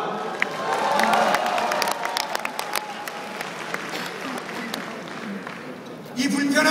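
Party members at a Seoul rally applaud and cheer, a dense burst of clapping and crowd noise that gradually thins into scattered claps before swelling again near the end.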